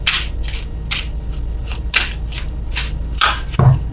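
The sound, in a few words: shuffling tarot cards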